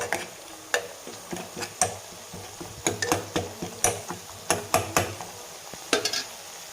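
Spice powders and masala for rasam are sautéed in a pan, with repeated sharp clacks of a spoon stirring and scraping against the vessel over a faint sizzle, close by.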